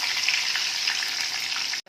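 Bhetki fish cutlets frying in a pan of oil, a bright continuous close sizzle that cuts off abruptly near the end.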